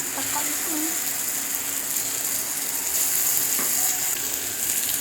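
Ground tomato fries in a pan for a fish curry, giving a steady, close sizzling hiss that stays even throughout, with no clear speech.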